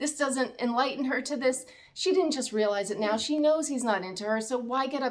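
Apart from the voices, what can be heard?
No distinct noise like a dog, phone or traffic.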